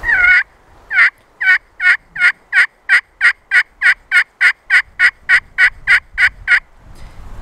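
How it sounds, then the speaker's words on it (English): A turkey yelp worked on a friction pot call: a run of about seventeen sharp, evenly spaced raspy notes, loud and close, with no talking over it. "and then a yelp."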